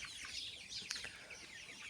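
Chickens on a Ukrainian backyard farm, among hens of ash-grey, white, black and yellow colour, give soft intermittent clucks and calls, fairly faint under a steady hiss of outdoor background noise.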